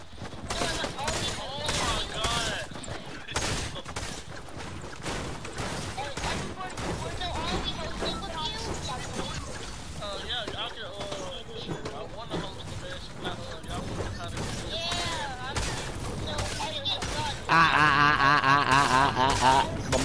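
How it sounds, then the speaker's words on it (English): Gunfire in a squad-based creative-mode video game match, repeated shots rattling through the whole stretch under near-constant player chatter and music, with a louder, denser burst near the end. "Someone's shooting."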